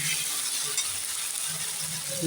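Cabbage paturi fries covered in a pan, a steady soft sizzle with faint crackling that holds at an even level throughout.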